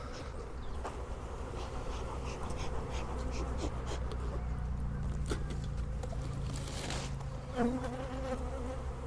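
Honeybees buzz in a dense, continuous drone around an open hive in spring, close and steady with individual bees passing near.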